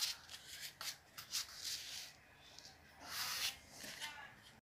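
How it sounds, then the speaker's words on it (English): Sheets of paper are folded and creased by hand while making paper glasses, giving several short crisp rustles and scrapes close up, with pauses between the folds. "And fold the paper like this."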